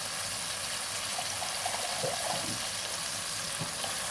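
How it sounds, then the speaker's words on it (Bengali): A little water goes into duck egg masala frying in a pan, producing a continuous wet hiss and gentle bubbling with a few soft spluttering bursts, close and fairly quiet. "সামান্য একটু জল দেবো"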